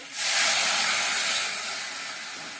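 Water poured into a hot pan of sweetened lentil-fritter curry: a loud, close, sudden sizzling hiss that starts abruptly and slowly fades, with no talk.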